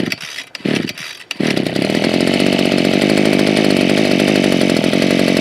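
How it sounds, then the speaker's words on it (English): A brand-new Maruyama MM24 two-stroke engine sputters through a few short pull-start bursts, then catches and settles into a loud, steady buzzing run. "The very first time this thing's ever run."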